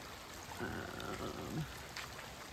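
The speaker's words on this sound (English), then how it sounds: "This is the outflow of the creek." Water from a creek outflow runs steadily after heavy winter rain, a soft continuous pouring and trickling rush heard close by, with no talk over it.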